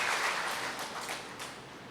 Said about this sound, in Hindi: ताली बजाइए अपने लिए।